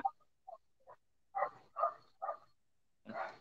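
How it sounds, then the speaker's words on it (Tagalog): Dog barking faintly in the background, a series of short separate yaps spaced irregularly with quiet gaps between them. "May naririnig na asong tumatahol."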